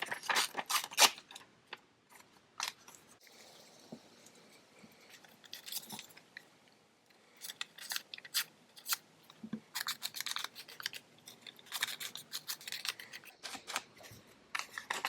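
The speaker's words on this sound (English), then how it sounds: "We need to tear it this way." A vintage book page is torn slowly by hand in short, crisp rips and rustles, close and quiet, with pauses between tugs and light paper handling throughout.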